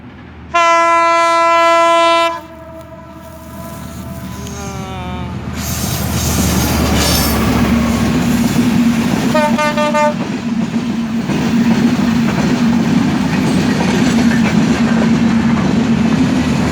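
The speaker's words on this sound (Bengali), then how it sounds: "ট্রেন আসতেছে আপনারা দেখতে পাচ্ছেন" A train passing on a railway line: loud repeated horn blasts ring out, followed by a rising rumble of wheels and carriages rolling close by, with a second horn burst partway through.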